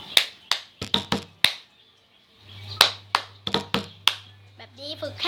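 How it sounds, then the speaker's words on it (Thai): Sharp, rhythmic hand claps in quick groups from a lesson on making music with drinking glasses, with a steady low hum underneath in the second half. "แล้วก็ปรบมือ1 ครั้ง"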